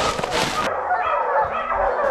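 Hunting hounds bark at a bear treed low in a pine, a dense burst of yelping and baying at first that drops to scattered, fainter barks with some distant voices under them.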